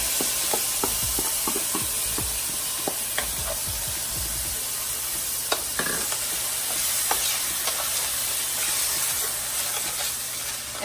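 Black beans hit a hot pan in a meatless walnut and cauliflower taco filling, giving a steady close hiss and sizzle with a few scraping stirs early on, no talk.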